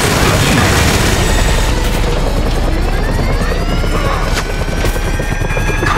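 Helicopter in the video game GTA 5, a loud close rotor thrum with steady chopping pulses and a rising engine whine, with bursts of gunfire and booms scattered over it.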